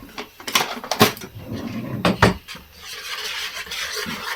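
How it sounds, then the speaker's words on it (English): A whisk knocks and scrapes against a bowl while cake batter with a pinch of salt is lightly mixed, giving several sharp clinks and short rubbing strokes up close, then settling into a softer steady rustle. "we're just going to lightly whisk that together"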